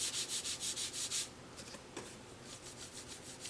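A hand rubs back and forth over a smooth surface finished in satin urethane paint, making faint, soft, even swishing strokes in a steady rhythm that slow and thin out partway through.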